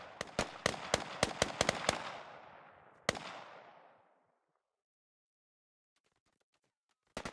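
A grenade goes off in a multiplayer video game shooter, preceded by a rapid string of sharp gunshot cracks, then one bigger blast whose rumble decays over about a second before near silence and a few faint distant pops.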